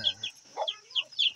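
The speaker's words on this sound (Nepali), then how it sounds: "यहाँ हेर्नु सक्नुहुन्छ भर्खरै नयाँ निक्लेका चल्लाहरू, काला सेता रङ्गी बिरङ्गाहरू छन् है।" Newly hatched black, white and multicolored chicks cheep softly nearby in thin, high-pitched peeps repeating in quick irregular bursts, with a brief low voice at the start.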